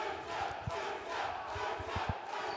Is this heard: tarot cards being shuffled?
no